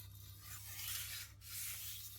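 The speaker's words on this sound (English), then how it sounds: "Just alternating like this will most likely get rid of the burr" A knife edge drawn in light, alternating sharpening strokes to remove the burr, a soft, quiet rasping swish that rises and falls twice, close up with no voices.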